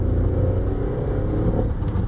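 A VW Polo's three-cylinder engine runs with a raspy, low rumbling tone, revving steadily up close from inside the car, with a slight rise in pitch toward the end and no talking.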